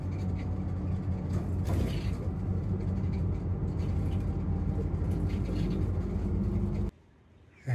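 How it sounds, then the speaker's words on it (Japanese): A bus engine rumbles steadily nearby for several seconds, with road noise and a brief hiss, then cuts off abruptly into quiet. "バスが来ました。"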